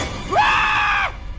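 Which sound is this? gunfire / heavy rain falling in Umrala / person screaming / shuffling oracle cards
person screaming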